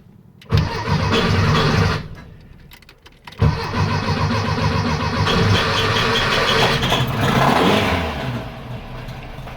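A Type 4 car engine cranks, stutters and catches on a second try, then settles into a steady, rumbling idle close by.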